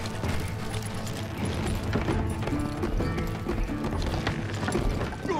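Horses gallop in a Western shootout scene from the Call of Juarez: Gunslinger video game, a steady, busy clatter of hooves mixed with mechanical rattles and other game sounds throughout.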